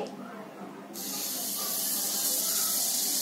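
Butter dropped onto red-hot charcoal sitting in a small bowl for stovetop tandoori chicken, a sudden loud hiss that starts just under a second in and holds steady, close by.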